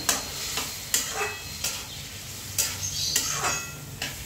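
A spoon scrapes and clinks against a pan in irregular strokes while a potato curry sizzles softly underneath, close by and steady.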